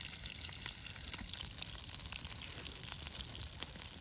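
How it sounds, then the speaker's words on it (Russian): Pumpkin pieces fry over an outdoor campfire in winter, giving a quiet continuous sizzle with scattered small pops and crackles and no voices. "И теперь готовим тыкву"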